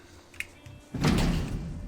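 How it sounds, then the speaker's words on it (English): A garage door in the Project Zomboid video game is tried: a faint click, then a heavy rumbling thunk of the door that holds and fades out. "Now let's see if this garage door is locked."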